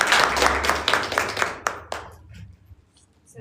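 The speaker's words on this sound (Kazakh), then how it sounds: "қол шапалақ қойыңыздар" An audience at a product presentation gives a short round of hand clapping that is brisk at first and thins out and fades within about two seconds.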